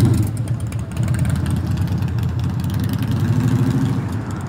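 A big Harley-Davidson motorcycle at Myrtle Beach Bike Week runs nearby, a loud, steady, deep engine rumble that throbs evenly throughout with no speech over it.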